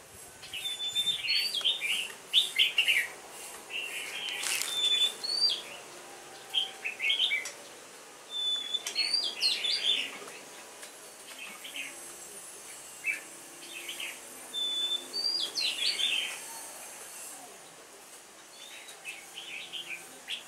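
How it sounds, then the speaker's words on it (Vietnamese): A bồi songbird sings repeated short, bright chirping phrases with sharp whistled notes, coming in regular bursts with brief pauses over a soft steady background hiss. "Đấy, bồi hót đấy."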